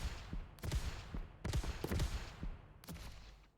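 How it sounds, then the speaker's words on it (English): Explosions in the Momentum Mod video game go off in four sharp bursts with rumbling tails, loud and close, spaced unevenly over a few seconds. "Oh, the classic explosion sounds right next to you."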